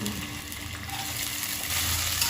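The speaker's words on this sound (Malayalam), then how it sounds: "രണ്ട് സ്പൂൺ നെയ്യ് ഒഴിക്കാം നമുക്ക് ഈ ക്യാഷിനട്ടും കിസ്മിസും ഒന്ന് വറുത്തെടുക്കാം" Cashews and raisins fry in ghee in a pan, giving a steady, fairly loud sizzle that carries on unbroken with no talking.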